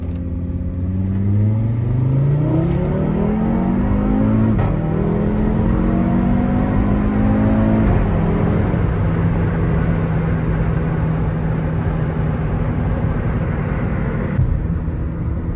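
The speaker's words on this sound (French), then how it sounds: "une petite minute de silence pour écouter le bruit du 5 cylindres" An Audi RS3 ABT five-cylinder engine hums as it accelerates through the gears, the pitch rising and dropping with each shift, then settling into a steady rumbling cruise with road noise.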